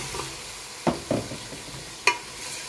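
Chicken goes into a pan of fried spice paste made with chili, turmeric, cumin and garam masala, giving a soft sizzle. A few sharp clinks of stirring against the pan sound close by.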